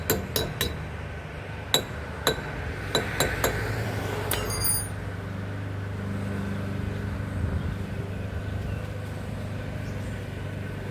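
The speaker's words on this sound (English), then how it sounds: "Copper hammer," Sharp metallic taps ring out in an uneven cluster, several quick strikes of a copper hammer on a grease cap of a 2010 Chevy Aveo, then quiet background hum.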